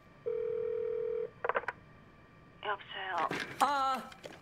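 A telephone number is dialed in a Squid Game scene: a steady dial tone, then a short burst of keypad tones, followed by faint voices and ringing-like tones toward the end.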